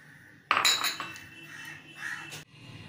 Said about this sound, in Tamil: இதெல்லாம் நல்லா ஒன்றா கலந்துக்கணும்